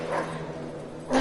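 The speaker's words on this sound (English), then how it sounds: "Love the way the dog just went." A dog in a video game gives a short bark at the start and another sharp bark near the end, with game ambience humming between.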